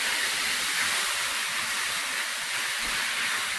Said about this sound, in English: I'm frying it with no oil